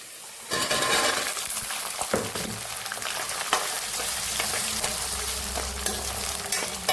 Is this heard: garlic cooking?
yes